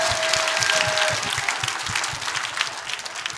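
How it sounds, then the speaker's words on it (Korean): Applause from an audience at a church gathering, moderately loud and steady, with a faint tone audible early on and some low background rumble underneath. "자, 우리 박수하겠습니다."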